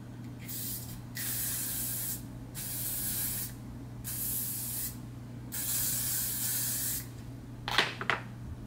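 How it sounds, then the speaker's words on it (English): Hairspray hisses from an aerosol can in several steady bursts of about a second each, separated by short pauses over a low room hum, fairly quiet and close, ending with a few small handling sounds. "I'm going to use some hairspray."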